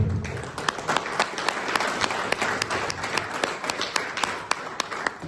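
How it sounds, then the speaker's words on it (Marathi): An audience at a motivational speech event bursts into sustained applause, dense clapping from a crowd at moderate distance with sharper individual claps standing out, continuous through to the end. "सगळेच टाळ्या वाजवा"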